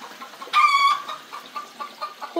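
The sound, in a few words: chicken clucking on a homestead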